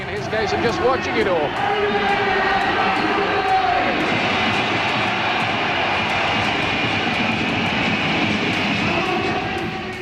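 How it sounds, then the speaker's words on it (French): Boxing arena crowd roaring loudly for Naseem Hamed before a fight as techno music plays, a dense, continuous wall of cheering and noise with voices mixed in throughout. "Elle acclame très bruyamment son champion."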